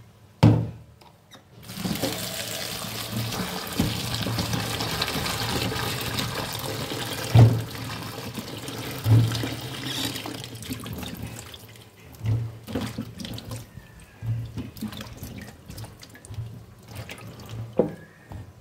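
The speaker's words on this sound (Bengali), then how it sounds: "এখন লাউটাকে আমি ভালোভাবে" Cut pieces of bottle gourd are washed under a running kitchen tap, a steady close rush of water splashing over the vegetable and broken by intermittent clunks and handling splashes, with no voices.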